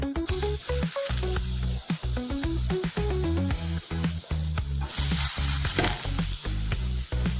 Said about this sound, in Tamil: இந்த எண்ணெயில் வதங்கட்டும்